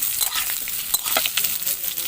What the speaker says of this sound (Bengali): আলুগুলো প্রথমে ভেজে নেব।